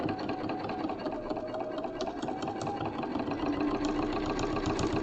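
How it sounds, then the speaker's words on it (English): Sewing machine stitching through thick layers of fabric for a cord tidy pouch, a close continuous mechanical whirr with a rapid, even needle rhythm throughout. "there's no issues about it going over big, thick bits of sewing"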